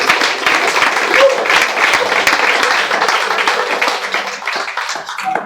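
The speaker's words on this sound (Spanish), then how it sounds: "Denle un aplauso a Dios." A congregation at a Sunday church service breaks into steady, full applause for God, dense clapping that holds strong before tapering slightly near the end, with faint music beneath.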